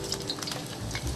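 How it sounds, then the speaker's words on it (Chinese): Garlic slices drop into hot oil for a high-heat stir-fry, with a brief burst of close, crackling sizzle. "我下一点蒜片儿"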